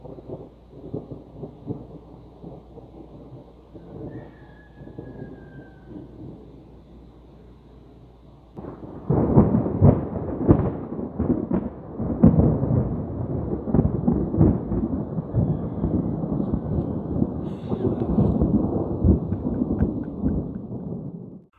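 Thunder rolls during a Florida storm, first as a low distant rumble and then as a long, loud, crackling peal that keeps booming and rumbling to the end.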